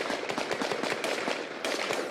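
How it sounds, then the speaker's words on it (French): Rapid bursts of gunfire crack and echo during a police tactical assault on a hideout in Dammartin-en-Goële, with dense overlapping shots filling the scene, loud and continuous without pauses. "Il est 16h55 à Damartin-en-Gouel lorsque les coups de feu retentissent."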